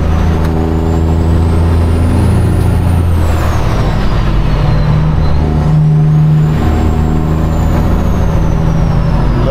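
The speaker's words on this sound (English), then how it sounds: "Let the Jake brake do the work for you." A heavy truck descends a grade with its Jake brake engaged, a loud, close, continuous engine drone and rumble holding steady while a faint whine drifts up and down in pitch.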